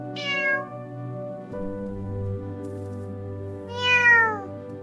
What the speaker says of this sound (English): Very cute cat.